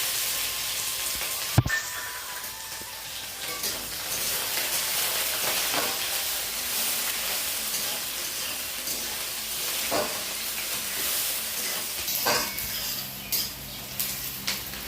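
Onions fry in oil in a pan for a rural village-style chicken curry, a continuous moderate sizzle broken by occasional clanks and scrapes of a stirring utensil, with no talk.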